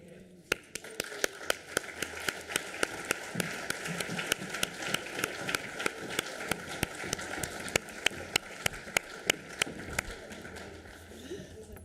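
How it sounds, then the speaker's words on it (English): In a council chamber, a steady run of individual hand claps rings out, fairly faint and distant, as members applaud Camilla's arrival after her appointment. "can we give her a round of applause?"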